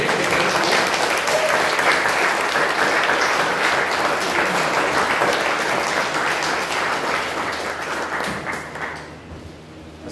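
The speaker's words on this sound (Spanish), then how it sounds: "Todavía un aplauso al Rey" Congregation at a Spanish-language church training session in Huejutla, Mexico, applauds for the King, a sustained roar of clapping that gradually thins and fades near the end.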